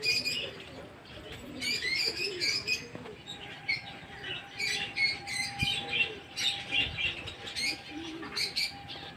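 Eight newly released young pigeons circle together over a house, with soft wingbeats and low cooing mixed with bright chirps from other birds, a steady outdoor hum behind.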